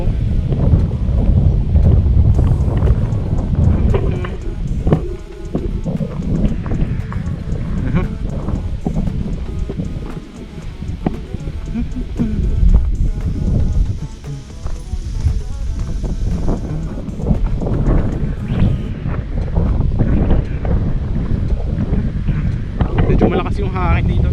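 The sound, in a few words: strong wind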